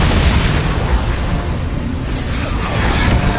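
A Bombarda spell explosion in the video game Hogwarts Legacy roars as a loud, dense, sustained blast of broadband rumble and crackle that fills the whole moment with no clear decay.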